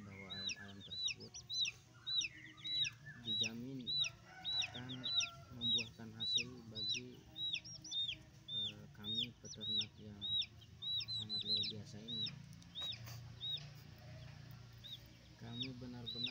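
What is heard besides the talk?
chickens clucking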